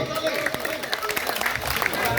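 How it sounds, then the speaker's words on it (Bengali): An audience applauding at a magic show, a crowd's mixed clapping and cheering with a voice speaking over it. "সবাই মিলে একটা করতালি"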